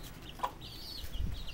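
Roosters clucking faintly in a farmyard, a few soft, scattered clucks at a distance over quiet background noise.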